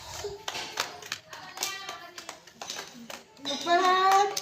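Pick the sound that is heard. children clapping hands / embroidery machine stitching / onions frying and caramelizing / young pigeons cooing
children clapping hands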